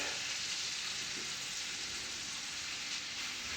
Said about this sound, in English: then we're going to drop our onions